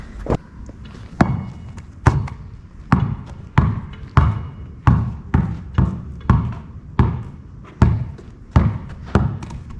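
A Molten BG3850 basketball bounces steadily on an indoor court, each dribble a sharp, loud thump with a short echo, repeating in an even rhythm about once per second with no talking.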